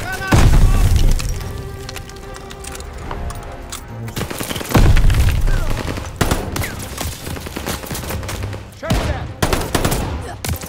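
Call of Duty Vanguard combat at Stalingrad: two heavy, booming sticky bomb explosions a few seconds apart, surrounded by rapid gunfire and crashing debris, loud and close.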